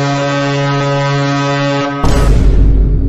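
A boat horn blasts as a long, loud, steady tone for about two seconds and then cuts off abruptly, giving way to a burst of broadband rumble.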